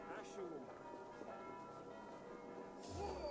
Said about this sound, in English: It's a nice touch to have all the bells in the different churches ringing